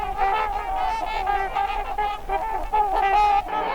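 Trumpeter swans overwintering at a wildlife refuge beside the Snake River in eastern Idaho, calling in a series of repeated nasal honks, several overlapping and moderately close against a soft outdoor background.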